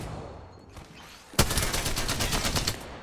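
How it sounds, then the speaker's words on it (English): Fuse's knuckle cluster launcher fires in Apex Legends, a sudden loud burst after a quieter lead-in, followed by a rapid rattling string of repeated explosive pops that continues to the end. "Knuckle clusters firing."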